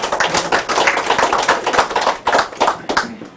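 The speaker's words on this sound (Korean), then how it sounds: "큰 박수로 모시겠습니다" Audience applause welcoming a lecturer to a special lecture on Hong Kong and Korea, brisk dense clapping from a crowd, fairly close and continuous.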